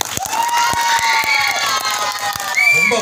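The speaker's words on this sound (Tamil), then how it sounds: "எனக்கு ஒரு பலமான கைத்தட்டல் நீங்க கொடுக்கணும்" An audience at a Tamil song-contest show cheering loudly, with high excited shouts and calls rising over sharp claps, a close, bright burst of crowd noise throughout.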